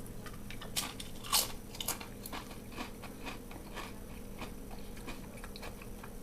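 Someone eats chilled homemade salsa with no vinegar or sugar, probably scooping it with crisp chips: close, faint crunchy bites and chewing, with a few sharper crunches early on, over quiet room noise.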